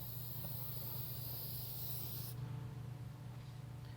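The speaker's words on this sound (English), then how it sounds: "So he's doing a little silicone spray just to make life easy." A continuous silicone aerosol spray hisses for about two seconds close by, then cuts off, leaving a low background hum.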